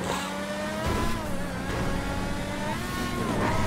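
Car in GTA 5 racing at high speed down a narrow road: a strained, sustained engine whine with shifting harmonic tones, loud and continuous with no talk.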